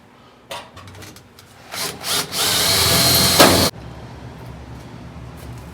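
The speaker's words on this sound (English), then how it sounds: "Don't drill through your fingers, it hurts." A power drill whirs into wood close up during floor pan fabrication on a 1970 Challenger, building to a loud sustained grind for about two seconds before cutting off, then quiet room noise.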